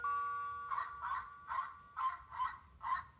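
A small electronic doorbell on a Lego city build chimes repeatedly in a steady rhythm, several bright ding-dong tones, fairly faint and close, with no speech.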